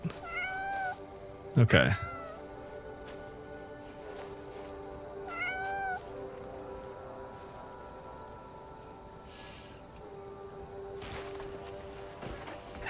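A cat meows a few times inside the video game Crimson Desert, bright short calls standing over a steady humming game ambience, with a brief spoken word from a person.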